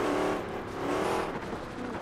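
Hennessey Venom supercar engine in a racing video game, roaring steadily at high revs with rising and falling pitch as it rips down the road, loud and continuous with no talk.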